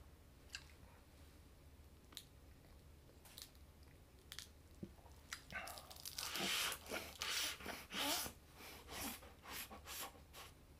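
Crunchy nori seaweed wrapped around a rice ball is bitten and chewed close to the mic, first faint scattered crackles, then a dense run of loud brittle crunches with soft breathing in between.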